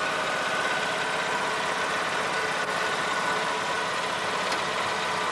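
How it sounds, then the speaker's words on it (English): A farm machine used in Japanese rice growing idles in neutral with a low, steady, even engine drone that holds constant throughout with no other sounds. "at neutral and the super shift lever to low, and keep the engine idling."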